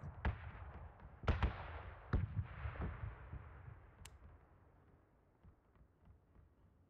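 Gunfire in the battle royale shooter PUBG, a few sharp booming shots with a long reverberant tail that fades out, moderately distant and with no talking.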